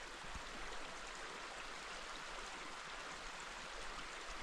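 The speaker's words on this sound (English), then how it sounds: "Here's that waterfall again." A mountain waterfall beside the Charlotte Pass to Guthega trail in the high country, rushing in a steady, dense roar that holds constant for the whole stretch with no voices over it.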